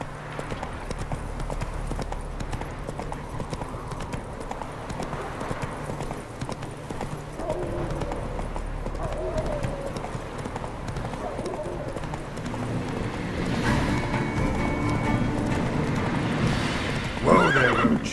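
Roach, Geralt's horse in The Witcher 3, gallops with steady rapid hoofbeats and gives a loud neigh near the end. A voice talks faintly under the sound.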